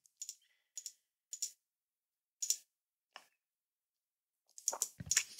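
A computer mouse clicks while working in Revit software: several sharp single clicks spaced apart in near silence, then a quick cluster of clicks and handling at the end.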